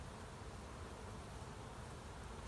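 Faint, continuous hum of honey bees at the hive entrance as foragers return carrying pollen, a dense even buzz with no distinct individual sounds or speech.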